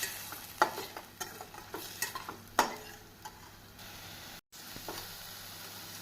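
Colocasia (taro root) pieces are stirred through masala in a hot pan, giving a steady low sizzle broken by repeated scraping strokes and clinks of the spoon, with no talking.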